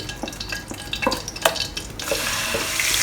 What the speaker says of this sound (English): First we'll fry the shallot paste until fragrant.